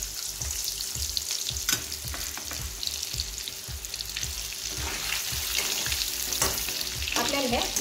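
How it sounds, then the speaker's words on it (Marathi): Soybean chunks fry in hot oil over a full flame, a constant bubbling sizzle punctuated by regular scraping knocks from a stirring spoon, close and clear with no voices. "आता मी हे सोयाबीन तळून घेते। त्याला आपलं तेल तापलंय।"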